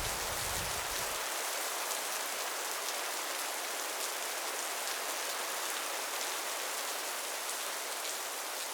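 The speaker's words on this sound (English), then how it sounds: "Though on occasion the rain came back." Rain falling outdoors on a backpacking circuit, a steady dense patter and hiss that carries on evenly from start to finish with no voices.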